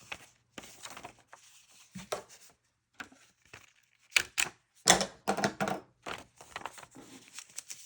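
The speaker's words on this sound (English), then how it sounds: "I'm just going to staple it though." A paper tag for a strawberry-themed folio is being stapled, heard as a series of sharp, close clicks and crunches in quick bursts separated by brief pauses, with no talking.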